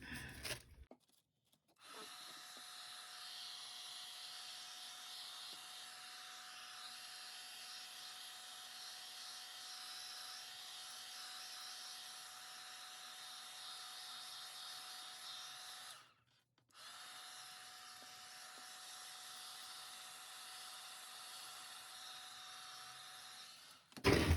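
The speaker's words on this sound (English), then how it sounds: "I'm gonna use the hairdryer, well, not the hairdryer, but the, whatever this thing's called, the heat gun." A heat gun blows hot air in a steady, loud, close hiss that runs for about fourteen seconds, cuts out briefly, then resumes at the same level, with no talking.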